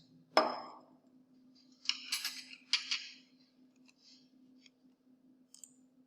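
A solution gets stirred in a glass, with a sharp clink at the start and then a few bright scraping and tinkling strokes. Sparse faint taps follow over a quiet steady hum.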